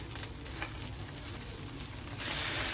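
Chopped spinach stir-frying in a hot pan for a Kerala cheera thoran, a steady close sizzle with soft stirring scrapes that swells louder near the end.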